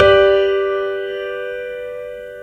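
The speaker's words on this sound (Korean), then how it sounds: "5도 화음의 이름은 딸림 화음이에요" A dominant V chord, the fifth-degree triad, sounds in a single keyboard strike during a music class, its bright stacked tones holding and gradually decaying over two and a half seconds, with no voices over it.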